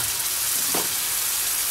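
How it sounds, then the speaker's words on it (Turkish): Pasta water poured into a pan of sizzling chicken arrabbiata sauce, giving a steady loud hiss with a brief splash near the middle. "Şimdi makarnamın suyundan yaklaşık 1 su bardağı kadar ekliyorum."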